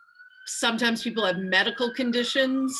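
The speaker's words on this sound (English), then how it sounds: "Sorry about the sirens in the back." A siren wails faintly in the distance, its tone slowly sliding, while a person speaks clearly over it.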